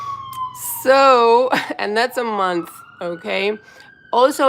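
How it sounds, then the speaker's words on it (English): Emergency vehicle sirens on a New York street, a steady wailing tone sustained in the background beneath someone talking. "Okay, sorry for the sirens."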